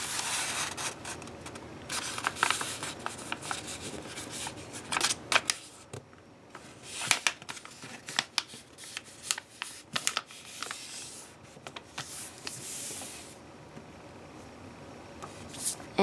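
A sheet of paper is creased and folded into an origami swallow paper airplane, with close crisp crackles, rubs and sharp pressing sounds that come in irregular bursts, without speech.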